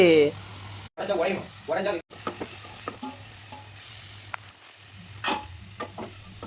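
Potato finger chips fry in hot oil at medium heat, a steady bright sizzle with occasional stirring clinks and scrapes, while a voice speaks at the start.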